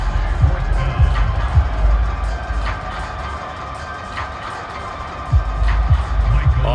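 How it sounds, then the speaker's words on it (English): A large stadium crowd in the video game Madden 24 cheers and roars steadily during a Panthers at Seahawks game, swelling loudest near the start and end. "How about some applause for the defense there?"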